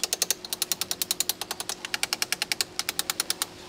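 Rapid metallic hammer blows on brake caliper pins on a Mitsubishi 3000GT during a disc and pad job, about thirty sharp, evenly spaced strikes in quick bursts, close and loud with a faint steady hum underneath.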